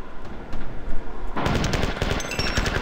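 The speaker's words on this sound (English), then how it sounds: "I have assault rifle ammo again." An assault rifle fires in Marathon 2: Durandal, opening with a few scattered shots before breaking into a loud, rapid burst of sustained automatic fire.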